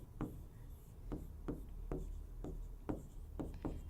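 Chalk or marker strokes on a board while an orbital diagram for carbon is drawn in a chemistry class: a series of short, sharp scratching taps in an irregular rhythm, close and fairly quiet.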